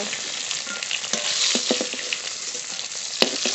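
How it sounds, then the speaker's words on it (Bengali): Vegetables frying in hot oil in a pan, with a steady close sizzle and a few scattered stirring clicks and pops throughout. "ভালো করে ভেজে নিয়েছি নামিয়ে নেব"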